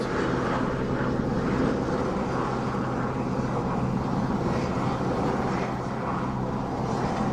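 Aircraft at an airport, a steady, broad engine rumble and roar heard from a moderate distance, continuous and even throughout with no talking.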